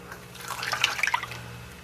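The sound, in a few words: pouring melted brown butter into a bowl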